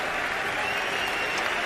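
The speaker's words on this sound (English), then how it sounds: "I give it to this crowd ringside in Switzerland for applauding" Crowd applauding ringside at a boxing match in Switzerland, a steady wash of clapping heard at a distance, even and unbroken with no voices over it.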